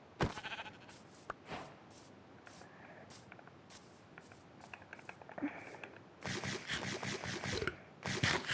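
Sheep in the game Minecraft bleat in short, faint bursts among soft clicks and pattering, followed by a denser run of noisy sounds near the end.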